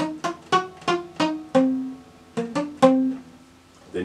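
A guitar picks out a short melody, single plucked notes ringing one after another with a pause midway, then a final sustained note fading out.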